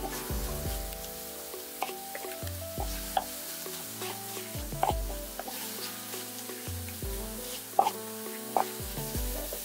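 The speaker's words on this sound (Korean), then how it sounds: "이제 팬에 으깬 두부를 넣고 수분을 날려줍니다" Mashed tofu stir-fried in a pan to cook off its moisture, a steady sizzle broken by repeated scraping strokes, with music playing under it and no talking.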